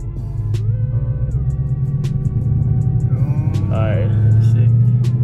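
A 2015 Mustang GT Performance Package pulling away in first gear, its low engine rumble steady and building slightly in loudness, heard up close with brief voices over it.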